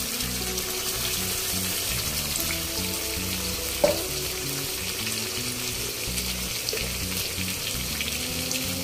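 A paste of onion, tomato, ginger and garlic fries loudly in hot oil for a big katla fish head and potato curry, a dense continuous sizzle up close with one sharp clink of a utensil midway.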